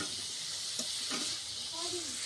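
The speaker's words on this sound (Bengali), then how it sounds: "কাঠে রান্না হচ্ছে ডাল।" Dal cooking in a pot over a wood fire, a steady broadband sizzle and hiss with a few soft stirring scrapes, close and continuous.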